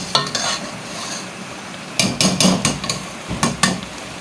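Masala roasting in a pan for kofta and potato curry, with a continuous sizzle and bursts of quick, clattering stirring strokes near the start and again in the second half, close up.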